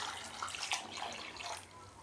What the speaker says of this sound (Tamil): இதுலேயே வந்துங்க இப்போது தண்ணி ஊற்றிக்கலாம்.